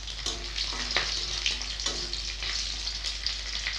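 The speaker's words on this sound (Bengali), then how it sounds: "কড়াতে তেল দেব, গোটা গরম মশলা দিচ্ছি, তেজপাতা, গোটা রসুন," Whole garam masala, bay leaf and whole garlic cloves frying in oil in a wok, a steady close sizzle broken by a few sharp spatters and crackles, with no voices.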